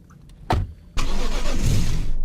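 A car engine in a video game cranks and starts, then settles into a steady, loud running rumble after a brief earlier thump.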